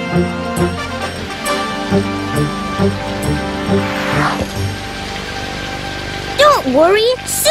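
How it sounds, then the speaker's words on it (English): Cartoon rain falls in a steady, even patter beneath light musical tones, with a few brief squeaky sounds near the end. "I wish I could make the rain stop."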